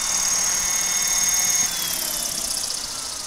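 Roger KDS700 RC model helicopter running its engine and rotor at low head speed, a loud steady high-pitched whine and buzz that drops slightly in pitch and level partway through, with no talk.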